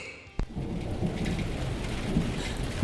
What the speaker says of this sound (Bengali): বৃষ্টি শুরু হয়েছে, পাহাড়ে বৃষ্টি